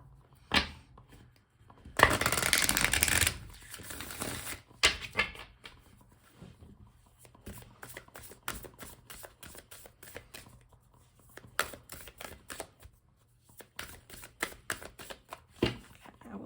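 Cards being shuffled, with a loud burst of riffling near the start and then repeated softer flicks and taps of a deck being handled, close by.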